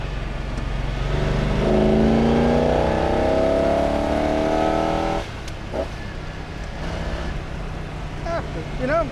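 A 1961 Corvette with twin carburetors accelerates hard from inside the cabin, engine rising in pitch as the secondaries open, then easing off to a lower rumble while someone talks over it.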